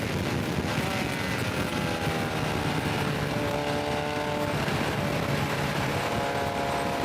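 A vintage race car in the HSR Sebring Endurance Challenge roars steadily as it accelerates out of a sharp right-hander through the next corner, engine pitch climbing under constant loud wind buffeting, with no one speaking.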